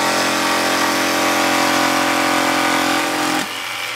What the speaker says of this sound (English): I want to take about a 3/8 drill bit and just drill a hole right in the corners there.